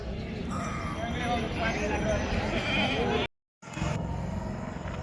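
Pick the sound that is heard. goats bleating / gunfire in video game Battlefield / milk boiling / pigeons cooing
goats bleating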